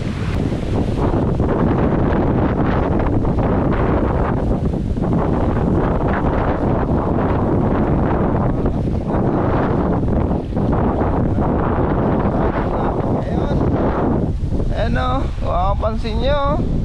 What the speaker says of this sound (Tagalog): Ang lakas kasi ng habagat.